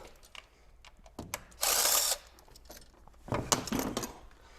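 Rattling, clicking mechanical sounds as an ignition coil is pulled from a Subaru BRZ with a 1UZ engine swap, including a short whirring burst of a tool and scattered metallic clicks, close but fairly quiet.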